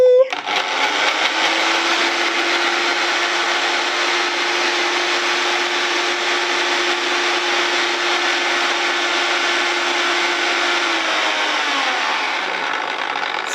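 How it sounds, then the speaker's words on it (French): A blender whirs loudly and close as it blends half a lemon, running at a steady roar for about eleven seconds before the motor winds down and stops. "on va pouvoir le passer dans le mixeur"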